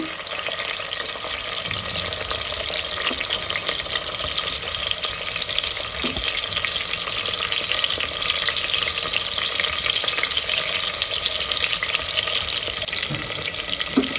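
Chopped onions fry in oil with mustard seeds and cumin, giving a loud, steady hissing sizzle that fills the whole stretch, with occasional soft clinks and stirring scrapes mixed in.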